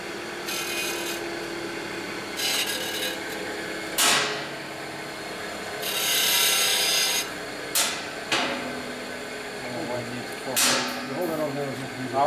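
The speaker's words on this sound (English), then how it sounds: "Now you just gotta grind it right off." A motorcycle brake cable on a 1972 Harley-Davidson XL Ironhead Sportster bobber having its wadded end ground off: short rasping bursts of grinding, starting and stopping irregularly at close range, with talk in between.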